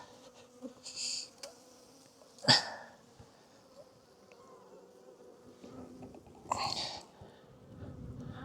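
Honeybees from a strong colony buzzing around an opened hive during a Demaree split, with close buzzes from individual bees passing by, some louder bursts and low background clatter.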